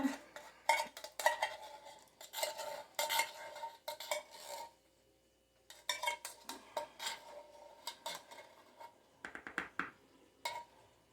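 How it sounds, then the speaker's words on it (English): Coconut mixture for a banana bread being stirred in a bowl, irregular clusters of scraping and clinking utensil strokes against the bowl, close and fairly quiet, with a short pause partway through. "we're going to go ahead and we're going to mix this together"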